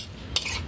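A utensil stirs calamansi into a Filipino dish of anchovies, giving a brief scraping clink against the bowl over a low background hum, with no voices.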